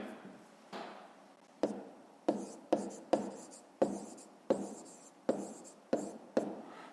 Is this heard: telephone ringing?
no